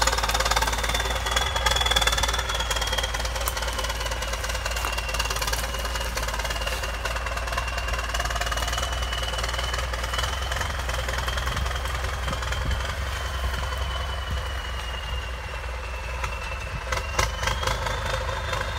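A John Deere 6100B tractor ploughing rows through a eucalyptus plantation, its engine laboring in a loud, continuous knocking drone with deep low rumble, steady throughout, no voices.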